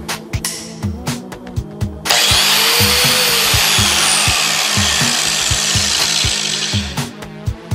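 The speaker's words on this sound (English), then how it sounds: "This is a angle grinder." Angle grinder against an iPhone 6, a loud sustained whine that starts abruptly after a few seconds of clattering handling noises and runs steadily to the end, with no talking.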